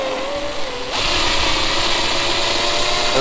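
A power drill slowly boring into a very hard broken bolt, a loud continuous grinding whine that jumps in intensity about a second in and holds steady, with no voices.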